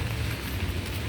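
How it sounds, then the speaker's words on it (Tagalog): Steady rain on a quiet, empty rainy morning, a continuous dense patter with no breaks, close and even throughout. "Maulan kasi."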